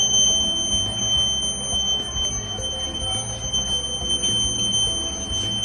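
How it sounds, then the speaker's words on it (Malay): Smoke alarm buzzer of a smoke-detection ventilation device sounding indoors, a steady high-pitched electronic tone held throughout over a low hum and background noise. "buzzer dan LED akan menyala untuk memberi amaran kepada penduduk sekeliling"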